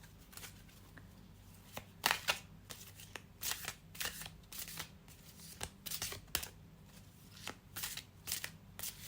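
Tarot cards are shuffled and drawn from decks in quick riffling bursts and soft slaps, close and quiet, repeating irregularly over a low hum.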